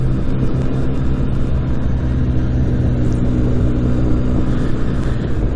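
A Benelli TRK motorcycle rides along a road on the Isle of Skye in Scotland, making a steady, loud engine rumble mixed with dense wind roar, with no breaks throughout.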